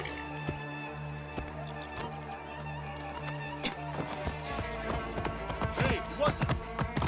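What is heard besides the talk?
horse galloping hooves in Assassin's Creed Origins video game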